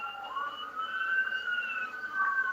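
A police siren wails outdoors at night, sweeping steadily up and down in pitch at a moderate distance with no talking over it.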